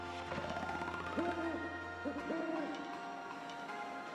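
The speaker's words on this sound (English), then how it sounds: "My comment every time I hear the owl during the night is, we're in the middle of the ocean." An owl hoots a few soft, rounded calls at night in the Paper Mario: The Thousand-Year Door remaster, sitting over a gentle game music bed at low volume.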